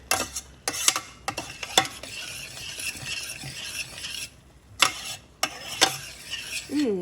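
A spoon stirring flavoring into food in a pan on a turned-off stove, with sharp scraping clacks against the pan at irregular intervals and soft sizzling and rustling between them, close up with no talk.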